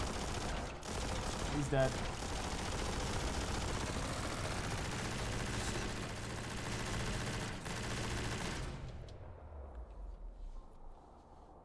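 An overpowered weapon fires continuously during a Biomutant boss encounter, a sustained rapid burst of gunfire that cuts off near the end and leaves quiet behind it; someone speaks briefly over the shooting.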